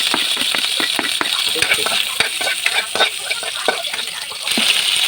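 Garlic sautés in a pan for adobong takway, giving a bright, close sizzle broken by repeated sharp scrapes and clicks of stirring.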